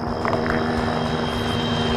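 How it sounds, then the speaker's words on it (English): An armed Arma 3 helicopter carrying rockets roars close and loud with a steady, dense rotor and turbine hum, constant for the whole stretch without voices. "It's a armed helicopter with rockets, there's actually two of them."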